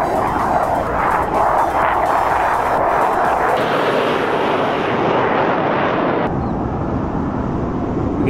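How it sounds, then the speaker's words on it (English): An aircraft passes overhead as a loud, steady, broadband roar that holds for several seconds and then thins out slightly as it moves away. "Getting all kinds of aircraft today. More aircraft."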